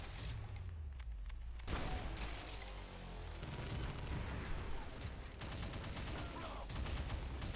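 Heavy, continuous weapon fire and blasts from the DOOM map Lost Civilization, a dense roar of shots and explosions with a big burst near the start and repeated crackling volleys throughout, loud and close.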